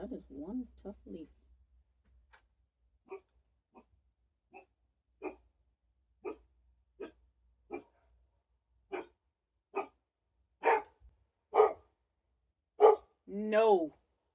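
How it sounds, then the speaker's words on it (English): A dog barks in a series of single, evenly spaced woofs, moderately close, building to louder barks near the end, with someone talking briefly at the start. "He's just barking because the other dog's barking."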